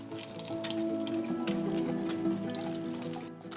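Water running over sliced leek as it is rinsed, a steady close trickle and splash with a few small drips, no voices.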